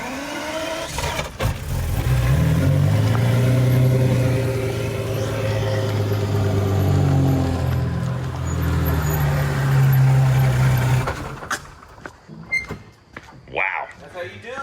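A Lamborghini engine started without the clutch catches and runs with a deep, loud rumble that swells and eases for about ten seconds before cutting off, after which voices and light handling noises are heard.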